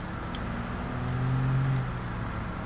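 A turbocharged car engine revs in the racing game Gran Turismo Sport, a steady low drone that rises and swells in the middle before easing back, loud and with no talk over it.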